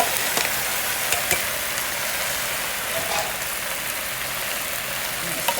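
Tomatoes and cauliflower hit a hot pan for aloo gobi saag and fry with a steady, dense sizzle, broken by a few faint clicks and stirring sounds. No talk.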